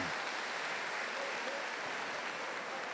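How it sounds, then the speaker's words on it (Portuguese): Steady applause fills a church congregation, a dense even clapping sustained throughout without speech. "Uma salva de palmas para Judite, a mulher forte."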